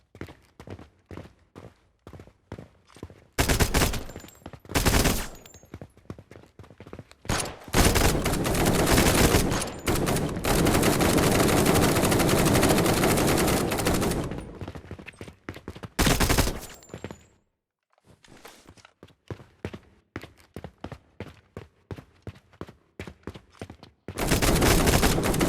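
Bursts of automatic gunfire erupt in a video game combat encounter, long sustained fusillades alternating with short volleys and gaps of quieter single shots and footsteps, loud and close throughout.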